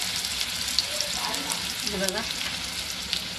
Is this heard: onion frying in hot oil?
yes